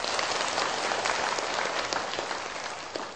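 A crowd at a Buddhist retreat talk applauds steadily, dense continuous clapping filling the room for several seconds.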